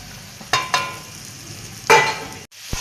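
Cluster beans being stirred into masala in a pan, with two scraping strokes around the half-second mark and a longer one near two seconds over a faint background sizzle, close and fairly loud.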